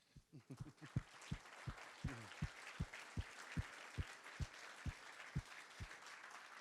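Audience applause for the panelists at a tourism forum, heard as dense crowd clapping throughout, with a steady rhythmic series of low thumps running underneath, as if a few people clap hard and in time.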